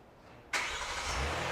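A Hyundai Palisade's engine cranks and catches after a remote-start command, a sudden loud onset followed by a steady close idle with no voices.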